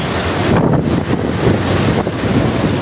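Strong typhoon gusts batter a small island village in Northern Samar, a steady loud roar of wind buffeting the microphone with rushing, surging noise and no speech.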